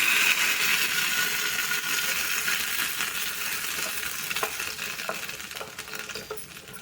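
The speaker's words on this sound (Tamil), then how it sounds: "தாளிச்சதை பார்த்தீங்கன்னா சட்னிக்குள்ளே நான் ஊற்றிக்கிறேன்" Hot tempering poured into roasted gram chutney sizzles loudly and steadily, a bright continuous crackle and hiss settling slightly, with a few small clinks toward the end and no talking.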